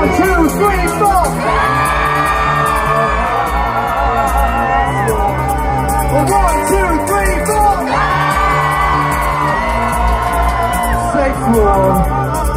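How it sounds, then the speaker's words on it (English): A large festival concert crowd in Los Angeles screams and cheers loudly and continuously, with high shrieks and whoops swelling in two big waves. "On the count of four, to scream your heads off."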